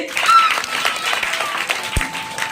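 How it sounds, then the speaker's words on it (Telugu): Audience applause at a children's camp Christian puppet show, a dense, steady patter of many hands clapping at close range for a couple of seconds, with a sharp low thump near the end. "అందరికీ ఒకసారి క్లాప్ చేద్దాం మరి"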